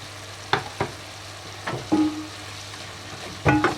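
A spoon stirring sautéed meat and mushrooms with half a tablespoon of tomato paste in a pan: a few short scraping strokes and clinks against the pan over a soft, steady sizzle, close and alone.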